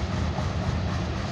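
Freight train rolling on rails between Dexter, Missouri and Dupo, Illinois, heard from aboard as a loud, continuous rumbling roar with dense rattling and no break.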